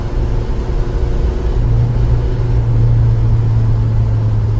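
A worn Isuzu Trooper 4x4 engine drones steadily while driving with no clutch, a loud, continuous low rumble with a faint hum that rises slightly in pitch midway, with no speech.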